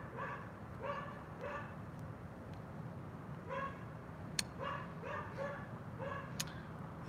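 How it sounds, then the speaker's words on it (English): A dog barks somewhere off at a distance in short repeated bursts of two or three yaps, pausing between groups, faint against a quiet outdoor background. "This dog is annoying. Can you hear that dog?"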